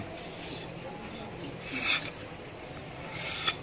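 A knife or blade rasps along thin bamboo strips, shaving them smooth for weaving a northeastern Thai sticky rice basket; steady close scraping strokes with a couple of louder pulls.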